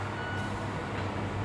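A dredging truck loading silt by a pond boathouse reverses with a steady repeating backup beep over a continuous low engine rumble and outdoor noise, at moderate distance.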